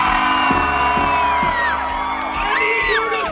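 A van and skoolie tour event at night, where a group of people whoop, yell and cheer together, shouting over one another with rising and falling voices, close and loud.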